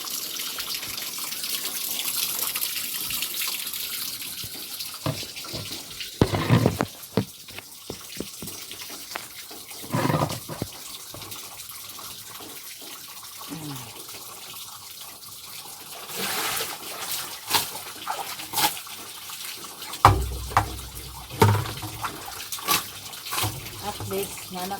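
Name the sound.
rinsing with running tap water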